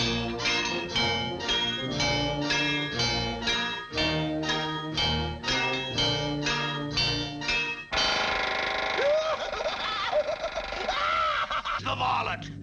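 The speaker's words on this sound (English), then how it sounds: "And there goes the bell!" A bell rings to start the second half of a contest in a 1949 Looney Tunes cartoon, heard as repeated bright strikes over busy orchestral music, followed by whooping effects and swooping tones.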